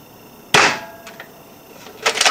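An airsoft gun fitted with an OMW 5kg Elite spring fires one sharp, loud, close shot, followed by faint clicks and then a quick burst of two or three more snaps near the end.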